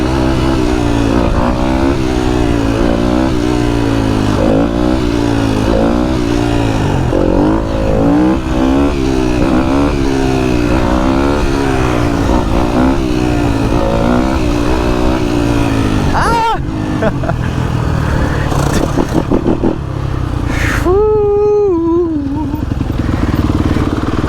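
A 250 dirt bike engine revs repeatedly, rising and falling in a rough, rhythmic pattern, loud and close, then a sharp rev near the end as riders practise wheelies; voices and background music are present.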